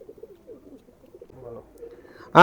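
Soft, low cooing from a pair of pigeons at a high-flyer pigeon loft repeats through the clip, ending with a sudden loud burst of sound.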